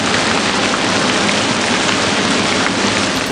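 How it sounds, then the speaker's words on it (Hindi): Heavy monsoon rain in Balochistan, a dense, steady hiss of downpour with no pauses or voices. "बलोचिस्तान में मानसून बारिशों ने तबाही मचा दी।"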